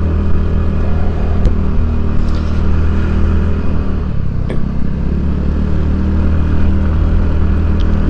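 A TVS Ntorq 125 scooter revs and accelerates on a ride through hilly terrain, a loud continuous engine drone with steady low rumble and occasional clicks and clatters, no speech.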